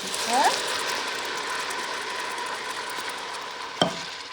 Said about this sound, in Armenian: Վառվի, մի անգամից ավելացնում եմ տոմատը